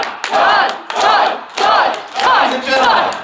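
At a comic convention, a crowd chants a single name in loud, rhythmic bursts, five strong shouts in even succession with brief gaps between them.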